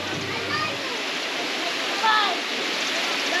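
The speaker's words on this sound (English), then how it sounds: "Water park, water slide." Water rushes and splashes steadily at a water park with a water slide in Bacolod, Philippines, a continuous broad hiss of falling water with faint voices in the background.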